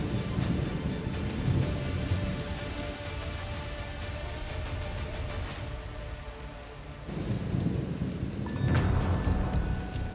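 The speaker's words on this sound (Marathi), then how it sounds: "वर्ध्यात मान्सूनपूर्व पावसानं हजेरी लावली" Heavy pre-monsoon rain pours steadily in Maharashtra, with deep rumbling thunder rolling through, swelling louder near the end.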